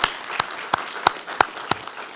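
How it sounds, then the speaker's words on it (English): An audience at a veterans news conference applauds in honor of veterans: a few sharp, evenly spaced claps ring out over a steady wash of crowd noise, moderately loud and close. "I want to thank our veterans, and a round of applause and a salute to all of you"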